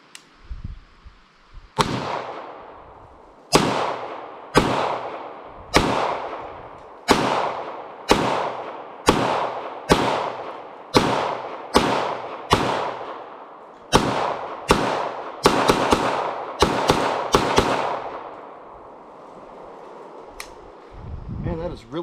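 A B+T SCW APC9K carbine fires about sixteen fairly crisp shots in a steady, evenly paced string at an outdoor range, speeding up toward the end, followed by a quiet pause.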